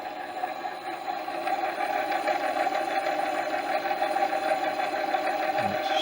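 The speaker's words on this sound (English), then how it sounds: "Right, let's give it some" A BSA B31 Goldstar Clubman replica engine spun over on a rig to check the spark, a steady mechanical whir and rattle at constant speed with no talk.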